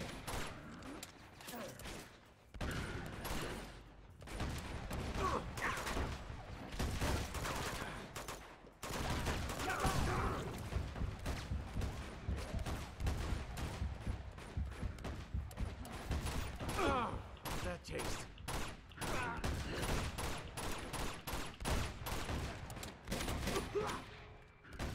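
Gunfire in the video game Among Thieves: dense, continuous volleys of shots and bursts, loud and close, with only brief pauses over a long stretch.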